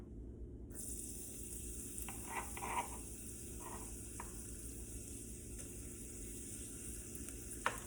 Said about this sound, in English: Next goes in the ginger.